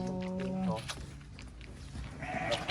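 An orphan lamb bleats while being fed milk on a farm, giving one clear wavering bleat at the start and a shorter one near the end, with someone talking over the animal.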